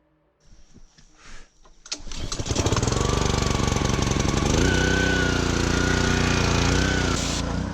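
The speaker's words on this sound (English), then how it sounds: "let's get this pressure washer started" A pressure washer's small engine sputters through a few quiet pulls, then catches and settles into a loud, steady, close-up roar that runs to the end.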